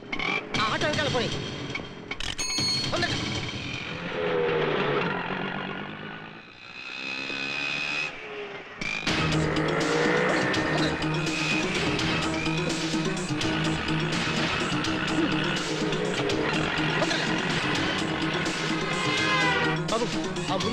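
Auto rickshaw engine revving and droning during a street chase, loud and continuous with a sharp change midway, mixed with busy traffic noise.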